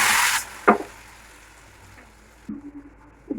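Ground chilli and tomato paste hitting hot oil over fried cumin and ginger, with a burst of loud sizzling that quickly dies down, then quieter frying with a few stirring clatters.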